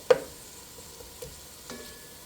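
Tomato frying and being stirred in a pan for a simple rice dish, with a sharp scrape at the start, then a few soft stirring knocks over a faint, quiet sizzle, heard alone.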